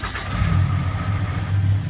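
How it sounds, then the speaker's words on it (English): A lifted 2012 Dodge Ram Cummins diesel pickup with a six-speed fires up, its engine catching and settling into a steady, loud low rumble that carries through the whole stretch without any voices. "We'll go ahead and fire it up"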